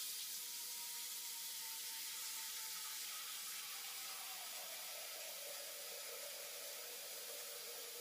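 Water being poured into a slow cooker for broth, along with leftover steamed-vegetable water, heard as a steady, soft running hiss throughout with no talking.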